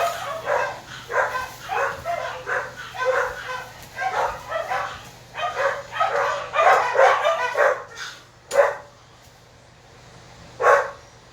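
Several dogs bark in rapid repeated bursts at moderate distance, then a couple of isolated barks follow after a pause, with a low hum beneath.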